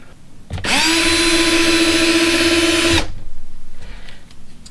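A cordless drill set on high drives a screw into sheetrock, a loud steady whine lasting about two and a half seconds that stops abruptly, followed by faint rattling.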